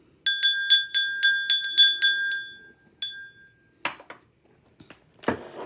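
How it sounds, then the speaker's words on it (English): A small bright bell rings in a quick run of clear strikes, then a few spaced chimes and some light clinks as it is set down. "And let me ring my bell."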